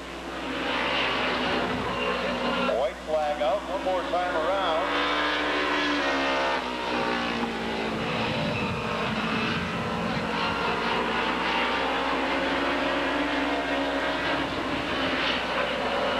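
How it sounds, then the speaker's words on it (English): Two-thirds scale Winston Cup race cars lap a short oval speedway, their engines droning and rising and falling steadily, under an announcer calling the race over the track's loudspeakers. "As the 2/3 scale Winston Cup cars roll around the racetrack."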